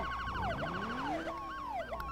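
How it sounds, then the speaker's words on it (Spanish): An ambulance siren in the Roblox game Build a Boat for Treasure wails in rising and falling sweeps. Two or more overlapping siren tones play at a steady, fairly faint level over a constant low hum. "Porque viene la ambulancia."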